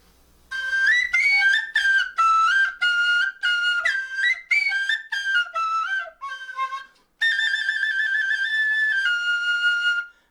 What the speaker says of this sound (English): What's this whistle? Wow, a golden whistle?